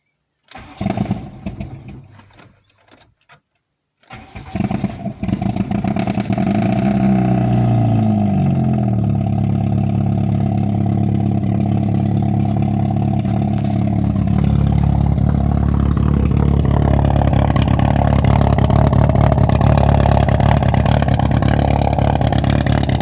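A VW Golf 3 GTI with a swapped 2.0 8v engine cranks after some brief handling noises, catches and settles into a loud, steady idle that rises a little later on, with no talking.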